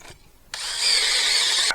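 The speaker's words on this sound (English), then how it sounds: "and then we'll drill them out" A power drill spins up and bores into a wooden 4x4 beam on a gold dredge trailer, a sudden loud whine that holds steady and close after a quiet start.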